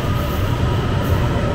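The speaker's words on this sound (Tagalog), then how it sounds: "Yun na yung train namin, paparating na." A Bangkok MRT metro train arrives at the station with a loud, steady rumbling roar of wheels and carriages close by, with no talk.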